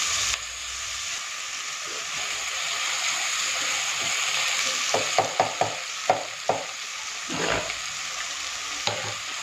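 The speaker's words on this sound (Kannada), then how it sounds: "ಅವರೆಕಾಳನ್ನ ಕೂಡ ಸ್ವಲ್ಪ ಫ್ರೈ ಮಾಡ್ಕೊಳ್ಳೋಣ।" Hyacinth beans (avarekalu) sizzle and fry in a pan, a steady crackling hiss with a run of sharp stirring clinks and scrapes near the end, close and fairly quiet.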